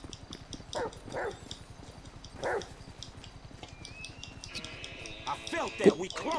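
A dog in Grand Theft Auto V barks in a few short yelps amid game music and ambience, with a Greek-speaking player talking over it.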